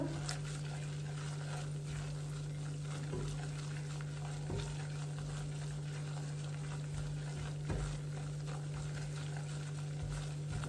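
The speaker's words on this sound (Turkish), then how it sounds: "Unumuz güzelce kavrulduktan sonra" Flour toasts in a pan as the base for a béchamel sauce, giving a faint, steady sizzle with occasional soft stirring scrapes over a low background hum.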